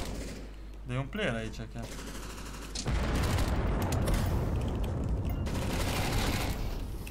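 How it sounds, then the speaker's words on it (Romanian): An automated sentry turret in the CS:GO Danger Zone battle royale mode opens fire: a brief spoken line comes first, then a loud, dense, continuous stream of rapid gunfire runs unbroken to the end. "Stai că se aude o turetă."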